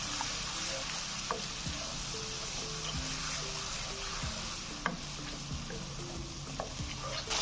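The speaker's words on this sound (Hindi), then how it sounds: "हमारे लोबिया का तड़का तैयार हो गया है" Tempering for white lobia curry, spices and chopped tomatoes in hot oil, sizzles quietly and steadily in a pan, with faint scattered clinks and stirring noises over the even frying hiss and no talk.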